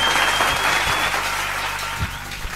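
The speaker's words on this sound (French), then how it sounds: "Applaudissez pour Jésus" A church congregation applauds loudly and steadily during a sermon, a dense wash of many hands clapping together with no voices over it.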